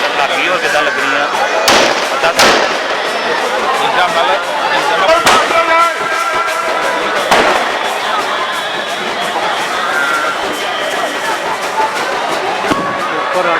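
Firecrackers and fireworks burst at a Dussehra fair in Pathankot, sharp loud bangs scattered every couple of seconds over a dense, restless crowd murmur with people talking nearby.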